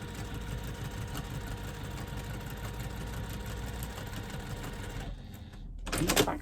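Sewing machine stitching a quarter-inch seam on folded fabric for a pop-it pouch, a steady fast mechanical whirr running continuously, then stopping abruptly near the end before a brief handling rustle.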